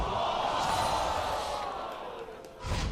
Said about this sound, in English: Crowd said it all right there